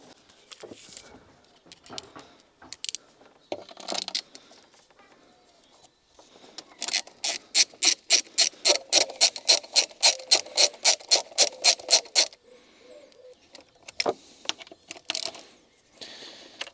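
A ratchet wrench tightens bolts on a plastic assembly of a Ford Kuga, giving a fast, even run of about twenty crisp clicks up close. Scattered handling knocks and small rattles come before and after it.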